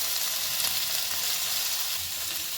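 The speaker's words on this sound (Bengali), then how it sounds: "কচুটাও নাড়াচাড়া করে একটু ভাজা ভাজা মতো করে নিয়ে এখন আমি কচুটাকেও নামিয়ে নেব।" Taro pieces frying and being stirred in a wok give off a loud, steady sizzle that runs unbroken and close throughout, with no voices.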